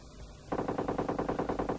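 Rapid automatic gunfire from a video game in a town setting, a steady string of close, loud bursts starting abruptly after a brief quiet lead-in, with no talk over it.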